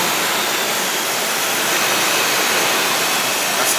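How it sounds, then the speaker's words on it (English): A Range Rover's radiator cooling fans make a steady, loud whooshing roar that runs continuously without pause, a dense broadband hum with no voices. "So the fans are going."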